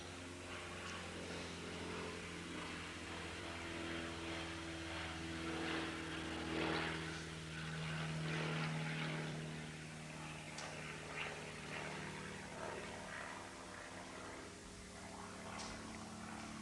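A propeller airplane drones overhead, faint and distant, its low hum rising and falling gently over a long steady pass.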